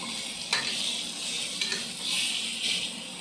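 Chicken pieces coated in turmeric and salt sizzle as they sauté in a pan, with a steady frying hiss broken by several scraping stirs of a spoon, no voices.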